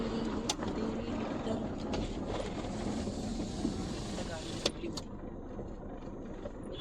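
A car drives along a rough, badly surfaced road, a steady low engine and road rumble with occasional sharp knocks and bumps, and a voice talks over it.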